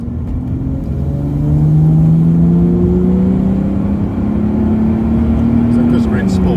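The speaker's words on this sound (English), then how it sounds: "you actually can hear it more than you feel it, because you hear the torque converter" A 1994 Jaguar XJS with a 6.0 V12 accelerates hard through its gears, a loud, smooth engine drone rising in pitch and dropping at a shift, heard from inside the car.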